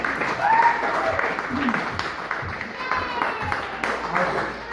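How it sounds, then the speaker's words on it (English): An audience claps for a youth basketball team at an end-of-season gathering, a short burst of scattered, moderately loud applause in a room with voices mixed in. "Congratulations, you can clap."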